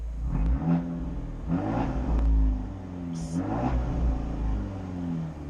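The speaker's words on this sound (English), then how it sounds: "It's so bassy, you can hear like the car vibrate with the noise." An Abarth 124 Spider engine revs repeatedly, three rising bursts with a deep, bassy tone that fall back to a rumbling idle between them.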